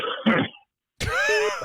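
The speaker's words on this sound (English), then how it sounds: "I feel like I'm going to cough at any second." A man coughs and clears his throat close to the microphone in two short bursts separated by a brief silence.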